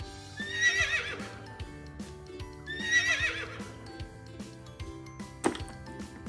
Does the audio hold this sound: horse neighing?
yes